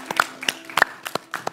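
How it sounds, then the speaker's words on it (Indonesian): A small studio audience on a national-insight quiz show gives scattered, sparse handclaps for the Duta TWK ambassadors, with distinct individual claps popping out at uneven intervals rather than a full roar. "Tepuk tangan sekali lagi dong untuk Duta TWK"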